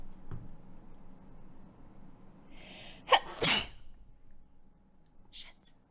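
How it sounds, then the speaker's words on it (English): A person sneezes loudly and close by with a sharp burst. A quieter, breathy sound comes just before it, and a fainter catch of breath follows. "I've got to sneeze really bad."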